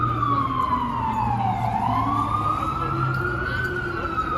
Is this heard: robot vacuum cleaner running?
no